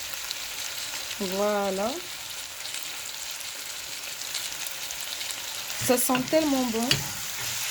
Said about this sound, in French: Donc là c'est en train de mijoter, comme vous voyez.